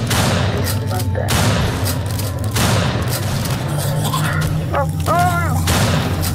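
Heavy, loud gunfire and booming blasts in a Halloween-special video game, continuous thumping bursts throughout, with a player exclaiming in alarm over the noise.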